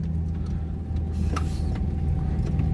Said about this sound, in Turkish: Evet, aracı 4x4'e geçirdik.